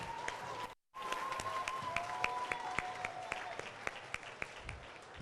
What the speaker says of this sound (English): If you give them a round of applause.